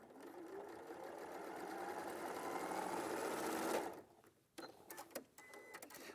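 A sewing machine running a quarter-inch seam, a continuous mechanical whirr that holds steady for several seconds, then stops, followed by a few scattered clicks and handling sounds.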